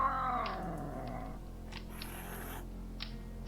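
A cat in the King's Quest 3 video game gives a brief, faint meow at the start, then quieter game sounds and a few soft blips follow.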